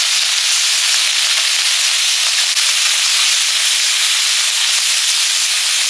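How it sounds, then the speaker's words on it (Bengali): Small mourala and puti fish frying in a very hot pan, a steady, even, loud hiss and sizzle that holds unbroken from start to finish with no talk. "চুনো মাছগুলো ভেজে নিচ্ছি।"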